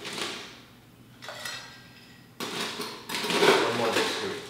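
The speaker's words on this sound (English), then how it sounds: "Fill that with ice. All the way to the top." Ice being scooped and dropped into an ice bucket for stirring a Negroni cocktail, with loose clattering bursts of cubes against metal and glass, close and moderately loud, pausing briefly between scoops.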